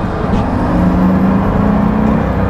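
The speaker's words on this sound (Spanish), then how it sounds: "Puedes decir que es un motor V12 de AMG, un V12 biturbo" A Pagani Huayra's AMG twin-turbo V12 hums steadily while driving, a loud, continuous low drone with road and cabin noise underneath, no voices.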